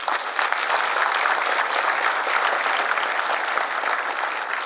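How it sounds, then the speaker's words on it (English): An audience at a State of the City address gives a round of applause, a steady, moderately distant wash of many hands clapping throughout. "Let's give another round of applause to Mr."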